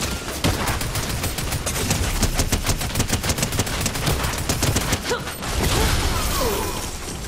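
Rapid automatic gunfire in the video game Fortnite, dense bursts of shots crackling almost continuously and loud throughout.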